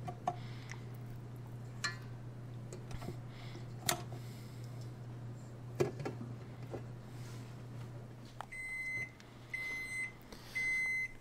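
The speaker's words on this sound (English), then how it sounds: "that was the oven beeper that you just heard there, saying that the oven was actually up to temperature now" An oven's electronic beeper sounds a series of three short, clear tones near the end as the oven reaches temperature, after quiet kitchen clatter over a low steady hum.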